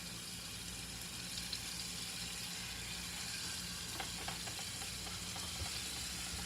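Floured cube steak laid into a pan over medium heat fries with a steady, close sizzling hiss, a few faint crackles and pops over the continuous frying noise, with no talk.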